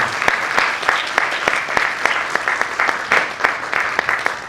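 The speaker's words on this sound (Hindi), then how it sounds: "तालियां बजाइए" A live audience at a stage show claps steadily together, a dense, even wash of many hands sustained throughout at moderate loudness.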